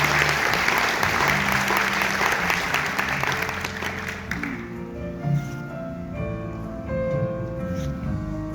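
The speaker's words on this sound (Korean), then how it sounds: "큰 박수로 맞이해 주시기 바랍니다" A crowd claps in sustained applause to welcome the Gyeongbuk education superintendent onto the stage at a hotel policy forum, dense and steady at first, then thinning out as background music and a rising hum carry on.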